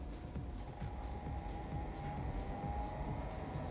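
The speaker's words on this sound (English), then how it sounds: "Oh, a car just went by at the same time." A car passes faintly in the distance beneath the steady, rhythmic whir of a nearby fan.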